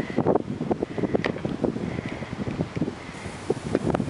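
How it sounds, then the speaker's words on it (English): Steady wind blowing hard during a January 2011 snow blizzard outdoors near a snow-covered driveway and mailbox, a continuous gusty roar buffeting the microphone with fluctuating rushes, close and loud throughout. "The wind's coming from behind me"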